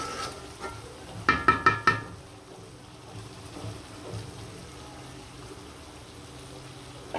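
Fried hilsa pieces go into a sizzling onion bhuna with green chillies, giving a short burst of four quick clatters and splashes, then a steady soft sizzle with faint stirring underneath.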